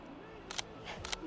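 Two quick bursts of a single-lens reflex camera shutter firing in burst mode during an engagement photo shoot, each a short cluster of crisp clicks, close and fairly quiet against light background noise.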